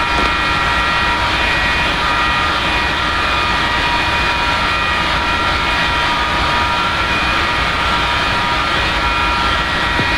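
Steady, loud jet engine roar of an F-4E in the DCS flight simulator, a continuous broadband whine with high tonal lines holding even throughout, no talking.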